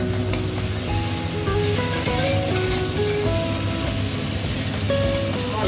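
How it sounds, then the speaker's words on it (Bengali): Spice paste sizzles and fries steadily in a pan with a splash of water, a dense continuous hiss with faint stirring scrapes, loud and close throughout. "অল্প জল দিয়েছি মশলাটা ভালো করে কষানোর জন্য।"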